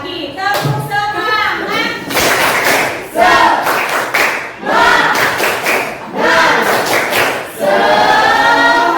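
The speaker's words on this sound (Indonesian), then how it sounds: "Sekali lagi, tepuk semangat." Schoolchildren repeat the tepuk semangat spirit clapping in class, with several loud bursts of rhythmic group claps and thumps between chanted lines, close and lively.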